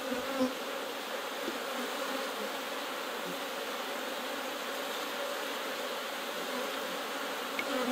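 Honey bees buzz steadily in an opened hive during a colony split, a dense, close, continuous drone without any speech.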